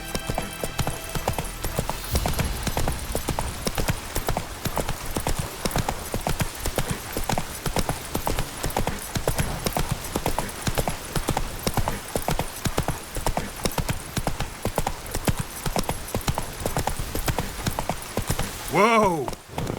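Hooves of Roach, the horse in The Witcher 3, pound in a fast, continuous gallop, loud and close throughout, with a sharp, rising whinny breaking in at the very end.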